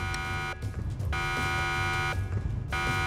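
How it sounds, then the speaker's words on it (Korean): An alarm blares in the Roblox game Break In: a loud electronic tone that cuts on and off in repeated pulses with short gaps, over a low background rumble. "알람이 울리고 있어요"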